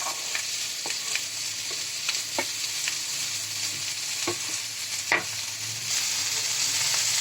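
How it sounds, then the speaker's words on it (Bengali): Vegetables sizzle steadily in a pan of fish oil while a spatula scrapes and taps at irregular intervals, close and moderately loud. "সবজিগুলো আমার ভাজা ভাজা হয়ে যাচ্ছে"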